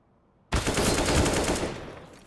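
AK rifle firing a rapid full-auto burst on the Nuke map in Counter-Strike, a sudden loud stream of sharp cracks that starts abruptly from silence and tails off with echo.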